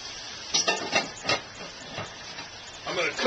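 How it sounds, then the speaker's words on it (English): Bacon browning in a Dutch oven crackles and sizzles close by, with repeated stirring scrapes and brief hissy bursts over a steady frying bed. "I'm going to cook that bacon until it's crisp"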